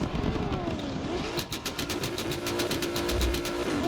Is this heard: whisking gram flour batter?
no